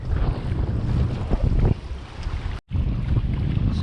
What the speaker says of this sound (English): Just for a minute, a big bit of wind.